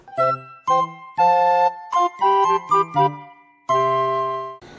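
A bright notification bell-like chime jingle plays a short rising and falling melody of several tinkling notes, clean and alone, ending with a ringing fade.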